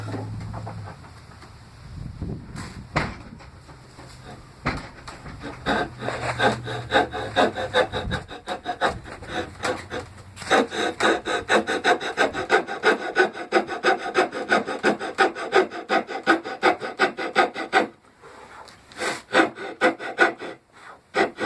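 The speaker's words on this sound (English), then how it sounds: "we're going to take the coping saw and just cut around" A coping saw rasps steadily through wood in fast back-and-forth strokes, with a brief pause near the end before cutting resumes.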